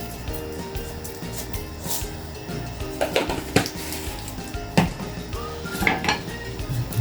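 A spoon scrapes and clinks against a pot as a potato and kielbasa soup with mixed herbs is stirred, with steady clattering and a few sharper knocks in a busy kitchen.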